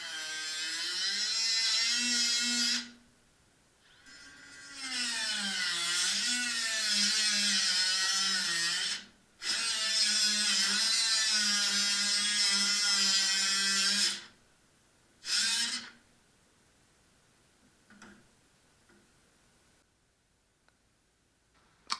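A small 12-volt belt sander works on a Lotus fender, whining loudly and steadily in several long runs of a few seconds each, with pitch shifts under load and short pauses, then a brief final burst and quiet handling.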